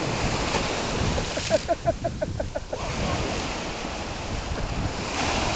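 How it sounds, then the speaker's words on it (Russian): Ocean surf rolls and washes steadily, with gusty wind buffeting the microphone throughout. "Миша Булуков плавает в море, блин."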